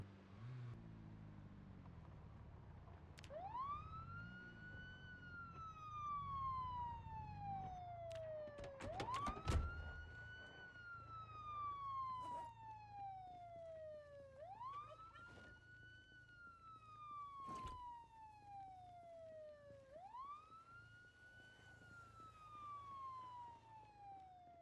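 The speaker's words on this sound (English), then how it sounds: "I'm gonna park the police car in front of the mall and leave the siren on." A police car siren left running in the video game Project Zomboid wails in slow rising and falling sweeps that repeat about every five seconds, steady and moderately distant, with occasional sharp thuds and clicks of gameplay.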